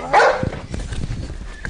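A hypnotised person imitates a dog, giving one loud bark-like yelp at the start followed by softer, rough vocal noises.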